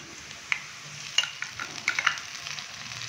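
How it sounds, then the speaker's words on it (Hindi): Garlic and spices fry in a pan for a brinjal curry, making a soft, close sizzle with a few light clinks and stirring scrapes over a short stretch. "लहसुन डालने के बाद हल्का सा हम इसको फ्राई करेंगे"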